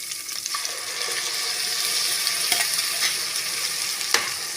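Ground masala being stirred into snake gourd frying in hot oil for a kara kuzhambu, a steady sizzle with scraping stir strokes close by and no talk.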